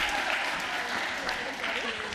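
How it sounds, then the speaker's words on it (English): An audience at a live careers-in-maths event applauding, dense steady clapping that fills the room, with a voice faintly mixed in. "Give her a round of applause."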